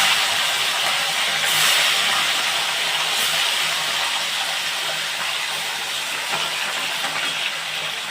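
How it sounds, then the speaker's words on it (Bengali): Fish frying in mustard oil in a kadai sizzles with a steady, close, bright hiss that holds evenly throughout, with no talking. "মাছ ভাজাগুলো এবার বসাচ্ছি।"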